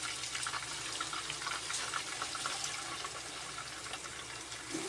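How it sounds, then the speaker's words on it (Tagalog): Marinade liquid is poured into a pot of chicken adobo with bay leaves and whole peppercorns, a continuous splashing, bubbling water rush that stays steady for a few seconds. "Ilagay na natin mga lods yung pinagbabaran kung saan tayo nag-marinate kanina."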